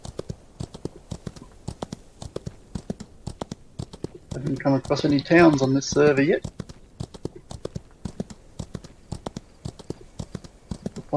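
A horse's hooves clip-clop in a steady, quick rhythm across an Outlaws of the Old West landscape, continuing throughout while a voice talks briefly in the middle.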